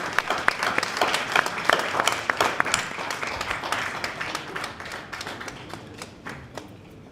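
An audience applauds the Minister of Public Administration and Political Affairs at the launch of a public reform strategic road map, a lively mass of crisp claps in a hall that gradually thins out toward the end.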